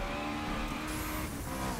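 A Subaru in The Crew Wild Run racing game drives with a steady, loud engine drone and some tyre squeal, held at constant level throughout.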